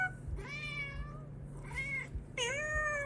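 A cat meows three times in close succession, each call a clear tonal cry rising and falling, the last one higher and longer, over a low steady background hum.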